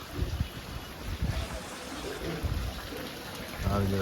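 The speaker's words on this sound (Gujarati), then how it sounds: "તમને બતાવી દઈએ કે બારે કેવું વરસાદનું પાણી જાય છે અમારે અહીંયા" Steady rain hisses down while runoff water rushes and gurgles nearby, with a few low thumps and a voice faintly present in the background.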